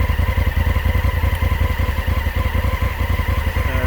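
A 2016 Honda Africa Twin motorcycle engine runs at a steady idle, with a loud, close, rhythmic low thumping pulse that stays even throughout.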